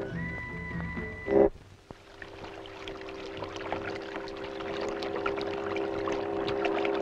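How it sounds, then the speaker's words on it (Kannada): A boat moving across water in a dramatized film scene, heard as a steady washing rush with a low sustained hum that begins after a brief loud burst and continues evenly to the end. "ನಾವೇ ಬೋಟ್ ನಡ್ಸ್ಕೊಂಡು ಹೋಗ್ತೀವಿ"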